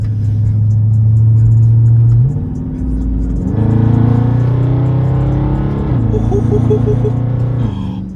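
A loud Dodge Scat Pack muscle car engine with a rear diffuser roars close up, its pitch climbing as it accelerates through gear changes, a deep rumbling rev that stays strong throughout.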